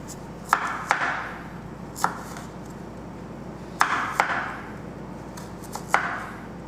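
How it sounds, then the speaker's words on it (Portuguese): Knife chopping a tilapia fillet into thin strips on a cutting board, with sharp, distinct knife strikes landing in small spaced clusters, close and clear over a quiet background. "Então você vai fazer tirinhas bem fininhas"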